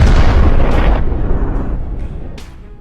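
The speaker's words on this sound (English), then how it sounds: "As a result of a coordinated and precise strike, the enemy's command and control post was destroyed" A drone strike detonates on an enemy command post, a loud heavy boom whose deep rumble decays over a few seconds, with faint crackling bursts trailing off afterward.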